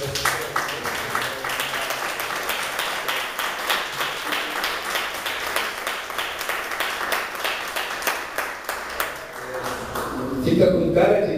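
A church congregation claps together in a steady, dense burst of applause that carries on for about ten seconds. It thins out near the end, where a voice rises over the last few claps.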